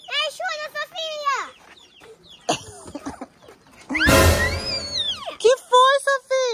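Chickens in a farm henhouse, big hens clucking and squawking close by in short bursts while voices talk over and between them.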